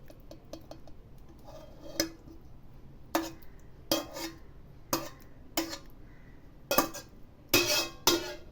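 Garlic chicken being scraped and poured from a pan into a bowl, a series of scattered close scraping and clinking knocks of utensil against cookware, irregular and fairly faint, with no talk.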